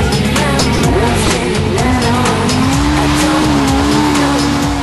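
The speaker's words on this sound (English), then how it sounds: "Paddy had the first spin of what would be for him a stressful race" A Legends race car spins out on a circuit during a race, its tires squealing loudly and continuously over a roaring engine, with other racing cars audible around it.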